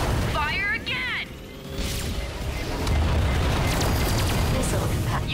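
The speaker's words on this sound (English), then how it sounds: "Missile impact. You got it!" Missile impact explosion in the Ratchet and Clank PS4 reboot, on Planet Batalia: a loud, sustained booming rumble that swells and holds over several seconds, following brief electronic chirps and game voice lines.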